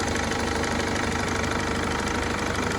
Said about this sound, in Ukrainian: Дивіться моторчик.